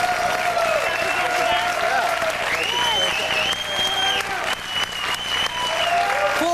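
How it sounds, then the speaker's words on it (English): Studio audience applause on a 1997 American TV game show, a steady dense clapping wash that runs the whole time, with overlapping voices and music tones. "Give them a round of applause."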